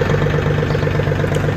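A Mahindra OJA 2127 27 HP tractor engine idles close by, a loud, steady low rumble with a smooth, even firing hum and no pauses.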